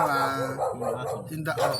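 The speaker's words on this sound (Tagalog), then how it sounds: "Psst, may aso." A dog barks and yips close by, mixed in with people talking nearby throughout the short clip.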